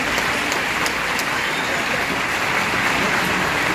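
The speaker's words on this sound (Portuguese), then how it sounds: "Salva de palmas, Cláudio, por favor." Loud, continuous clapping from an audience at a business lecture by a CEO forms a thick, hissing, rain-like roar that holds at full strength for almost four seconds, close and busy, with no talk on top.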